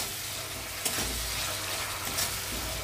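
Spicy masala with whisked sour yogurt sizzles in hot oil in a pan for a pomfret fish curry, stirred steadily with a spatula, giving a continuous close crackle with occasional scraping strokes.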